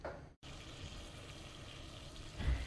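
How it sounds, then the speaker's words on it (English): Dried chili pods rinsed under running water in a kitchen, a steady faint hiss of water with a brief gap and a small splash near the end. "then I'm going to wash them, rinse them really well because sometimes they are dusty"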